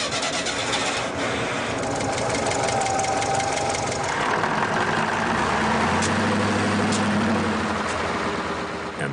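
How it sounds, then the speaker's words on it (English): A Kamaz truck engine in icy Tajikistan cranks and catches, then settles into a loud, rough, knocking idle that runs steadily close by. "And the Kamaz comes back to life."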